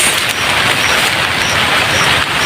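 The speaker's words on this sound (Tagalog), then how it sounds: "umulan ka agad parang malakas pa naman" Steady, heavy rain pours down during a harvest outdoors, a dense continuous hiss of drops hitting surfaces close by, with no voices.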